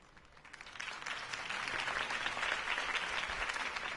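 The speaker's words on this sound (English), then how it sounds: "If only Mr. Wayne, my campaign's largest backer, could have heard that applause" Applause in Batman: The Telltale Series swells from a scattered start into dense, loud clapping from a large crowd, sustained and steady to the end.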